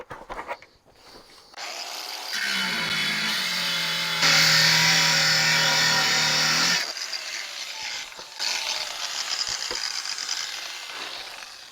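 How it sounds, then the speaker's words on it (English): An angle grinder with a weak disc bites into an old steel hot water heater tank, spinning up to a loud, harsh, sustained screech that shifts in pitch as pressure changes, then eases and resumes more roughly. "Need a more aggressive grinding disc."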